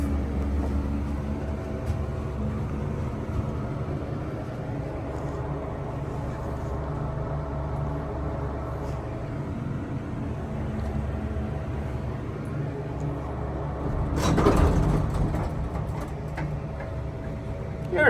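A fan drones steadily in the machine room of a vintage 1968 hydraulic elevator, a constant low hum with a brief louder rattle near the end.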